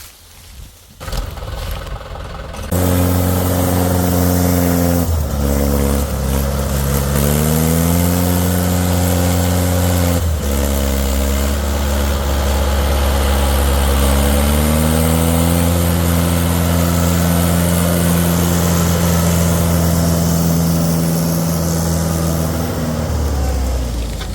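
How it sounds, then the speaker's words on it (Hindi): A 2023 Mahindra 575 XP Plus tractor engine starts and runs at a steady, loud idle close by, with its tone shifting a few times as the revs change slightly. "2023 मॉडल ट्रैक्टर है भाई, महिंद्रा 575"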